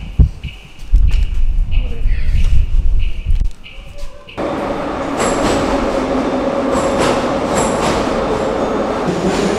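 A metro train rumbles loudly through a deep station in Kyiv, Ukraine, with a low roar and screeching wheels, a brief lull, then a steady rushing hum as it runs.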